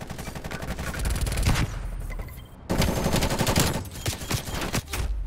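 The LAPA submachine gun fires rapid full-auto bursts in Black Ops Cold War multiplayer, two long loud rattling strings separated by a brief pause, then shorter bursts toward the end.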